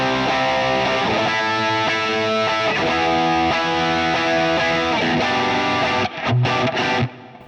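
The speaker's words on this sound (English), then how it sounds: "the overdriven sounds inside the IR-200 are absolutely fantastic." An electric guitar plays a heavily overdriven, distorted part through a Boss IR-200 amp simulator with reverb, sustained chords ringing loud and dense before a few choppy stabs at the end.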